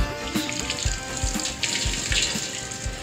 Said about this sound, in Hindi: ये देखिए जहाँ पर लोग पानी भरते हैं बहुत ठंडा और साफ पानी है।